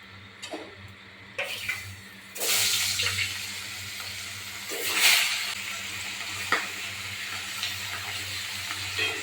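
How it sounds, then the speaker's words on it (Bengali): Pieces of ribbonfish fry in hot oil in a pan, a soft continuous sizzle with several louder crackling bursts and a few light clicks, close by with a low hum underneath and no speech. "এই তেলে পুরো মাছ কাটা দিয়ে দেবো।"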